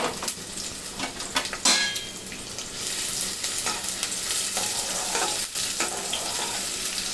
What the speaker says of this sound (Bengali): এখন পেঁয়াজটাকে আমি বেরেস্তার মতন করে নিচ্ছি।